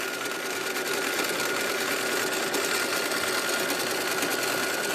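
A home sewing machine stitching free-motion quilting, its fast, steady whirring drone running evenly and close without pause.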